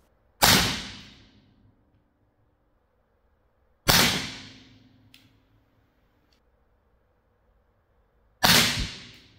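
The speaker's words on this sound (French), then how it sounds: "On retourne sur le TP50, mais cette fois-ci avec les billes en limaille d'acier." A TP50 .50 caliber home-defense gun loaded with steel-shot balls fires three sharp, loud cracks a few seconds apart. Each crack decays quickly into a short ringing tail, with silence in between and no voices.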